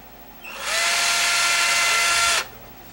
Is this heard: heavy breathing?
no